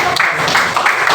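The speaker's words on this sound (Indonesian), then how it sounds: "silakan dulu tepuk tangan dulu, beri aplaus dulu untuk kelompok 2" A group of people clapping for the second group in a class session, brief dense applause filling the whole moment.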